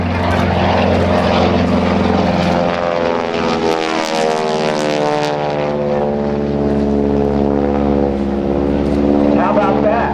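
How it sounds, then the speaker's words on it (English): A 1943 North American Texan with a radial engine passing at a navy airshow, a loud, throaty propeller drone whose pitch sweeps down as the plane goes by close, then holds a rumbling roar. "he's going to come by and make a couple of passes as we listen to the round sound, a radial engine from 1943"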